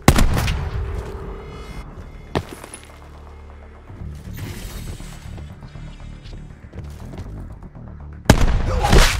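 Gunfire in Call of Duty Black Ops 4, with sharp loud shots at the start and end and scattered bursts and impacts between them, over a rumbling game backdrop.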